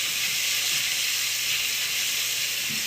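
Onions sizzle steadily in hot oil for a soup of curried sweet potatoes and carrots, a loud continuous frying hiss with faint low clatter of stirring beneath and no talk.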